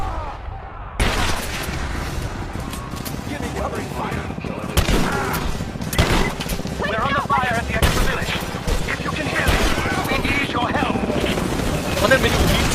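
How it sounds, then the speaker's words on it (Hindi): A pump-action shotgun fires in the video game Rise of the Tomb Raider, with several heavy blasts spaced apart amid continuous game noise and rumble. "Pump action shotgun."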